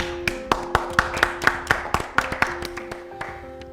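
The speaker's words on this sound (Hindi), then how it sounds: "तालियों में प्लीज कोई कंजूसी मत कीजिएगा।" Scattered clapping for quiz contestants from a small studio audience, a dozen or so distinct nearby claps in an uneven rhythm, fading toward the end.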